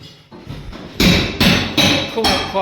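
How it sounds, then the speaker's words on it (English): Hammer blows punching holes through old chipboard flooring, three loud heavy strikes about half a second apart after some quieter knocks, close and ringing with no talk. "It's just hammer straight through it."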